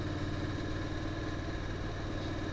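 A Honda DCT motorcycle engine idles with a steady, even low rumble that holds constant throughout, close and continuous with no voices.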